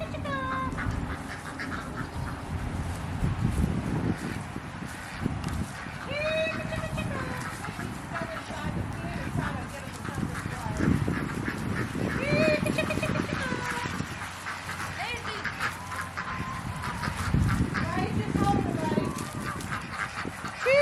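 Backyard chickens are lured with mealworms toward a newly installed electric netting fence, with clucking and honk-like fowl calls running throughout under people talking nearby.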